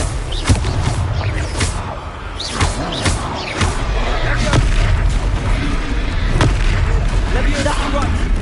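Booming fire-spell blasts from Hogwarts Legacy thump repeatedly and loudly amid dense combat noise, several heavy impacts spread across the stretch, with voices speaking in between.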